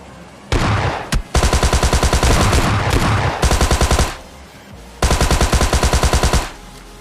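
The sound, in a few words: gunshots in a video game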